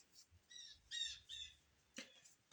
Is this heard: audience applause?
no